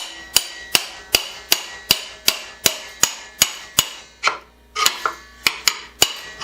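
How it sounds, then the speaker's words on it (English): A hammer strikes bent carriage bolts in a workshop during setup of a Harbor Freight chainsaw sharpener, about sixteen sharp metallic blows in a steady, close rhythm with a brief pause before the final quicker hits. "I'm going to drive them down in with a hammer"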